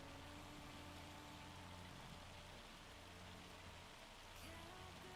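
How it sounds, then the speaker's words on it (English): Heavy in-game rain in a farming video game, a steady dense hiss of downpour with a low engine-like hum beneath, constant throughout with no talking. "Man, it's really raining though."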